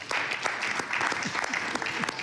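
Applause from an assembly approving a decision by acclamation: a dense, steady wash of many hands clapping together, close and sustained from start to finish.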